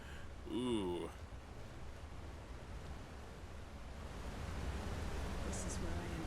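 A waterfall in The Elder Scrolls V: Skyrim, near a ruin, gives a steady broad rushing roar that swells slightly toward the end, with a brief high warble early on and someone speaking faintly over it.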